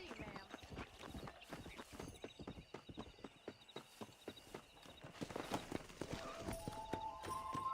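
Horse hooves gallop in the Red Dead Redemption western video game, a steady rapid clip-clop close by over outdoor ambience, with a brief whinny and a rider's voice heard now and then.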